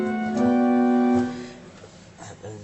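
A pipe organ plays its gamba stop blended with the stopped diapason, giving a held chord with a reedy, string-like edge over a soft flute tone. The notes change briefly, then a quieter passage follows, and the sound stays close and unaccompanied.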